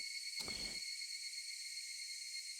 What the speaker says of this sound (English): You can hear the Higurashi, the cicadas.